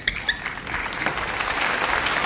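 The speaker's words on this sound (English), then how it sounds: "crowd encouraging both players." A crowd at the 2019 Asian Cup men's singles table tennis final between Ma Long and Fan Zhendong breaks into applause, building to a sustained clapping roar after a few sharp early claps.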